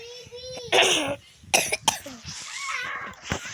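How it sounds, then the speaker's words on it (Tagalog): A child coughs several times in short harsh bursts, close by, with brief vocal sounds between the coughs. "Pasensya kung may ubo ako"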